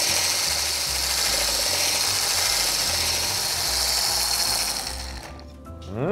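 Electric mixer whipping cream for a lemon roll cake, a steady close motor whir with a hard rattling buzz that holds evenly for most of the stretch, then slows and cuts out near the end.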